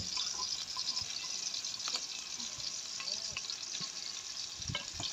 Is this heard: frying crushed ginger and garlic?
yes